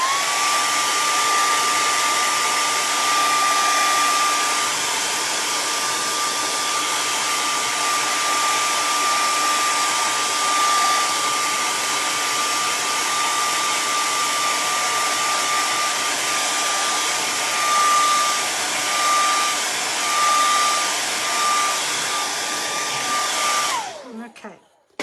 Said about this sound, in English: I'm going to see if I can hit it with a blow dryer.